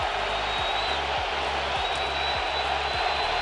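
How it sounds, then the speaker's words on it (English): A baseball crowd in Seattle jeers pitcher James Karinchak with a steady, dense roar of voices, distant and unbroken, with no distinct words. "Crowd all over Karinchak."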